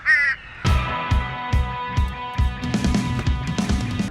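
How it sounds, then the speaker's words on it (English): A series of loud recorded crow caws played back in quick succession to scare crows away, harsh and rhythmic, over a faint steady hum. "And I'm playing this crow sound."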